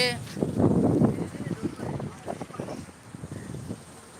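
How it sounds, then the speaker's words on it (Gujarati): Steady wind and heavy rain roar in a broad wash of noise in Mehsana district, Gujarat, with a voice talking over it throughout. "વાયરા સાથે વરસાદ છે"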